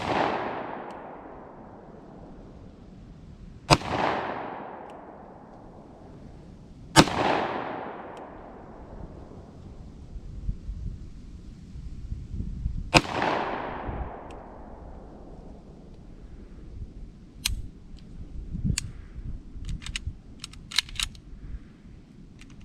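CZ 52 pistol shots fired outdoors: three loud, sharp reports spaced a few seconds apart, each with a long echoing decay, followed by fainter metallic clicks and handling noises.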